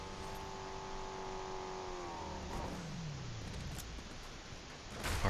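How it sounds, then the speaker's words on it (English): A car in the video game Fortnite revs and drives, its engine whine gliding and then dropping away as it slows to a stop, over a constant game background hiss. "Park the car up right here."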